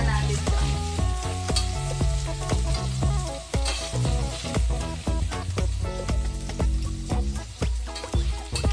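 Pork pieces frying in their own rendered fat for Bicol Express, a loud, dense crackling sizzle full of sharp spitting pops, continuous and close throughout.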